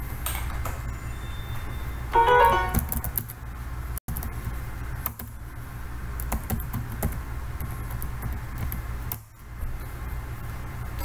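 Typing on a computer keyboard while entering login details into a web client: irregular, light keystroke clicks, fairly quiet and close, with one short louder burst of taps and no speech.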